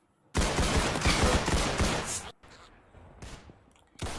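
Sniper gunfire in the Roblox game Arsenal, a loud dense burst of shots lasting about two seconds, then quieter rattling and another sharp blast at the end.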